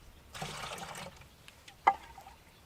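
Water poured out of a container holding dirt and rocks, a brief splashing gush followed by a sharp single splash or clunk, fairly faint and close, with no talking.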